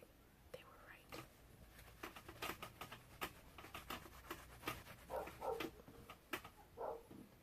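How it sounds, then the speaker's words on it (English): A neighbor's dog barks faintly and at a distance in a few short bursts, nearly buried beneath close soft whispering, light tapping and crinkling. "Can you hear the neighbor's dog barking now?"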